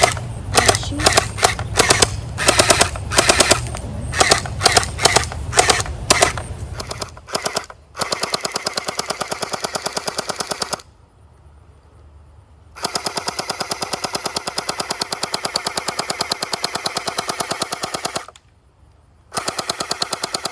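Pixncous gel ball blaster toy gun firing in rapid automatic bursts, loud and close with a fast mechanical rattle, stopping for two short pauses before resuming.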